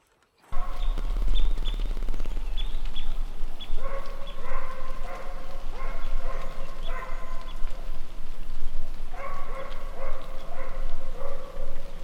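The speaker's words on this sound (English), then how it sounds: "The dogs are not long to pick up the scent of the roedeer and start barking." Hunting dogs on a driven hunt in Sweden or Denmark bark and yip repeatedly after picking up the scent of roe deer, several voices in overlapping bursts at moderate distance outdoors, continuing steadily throughout.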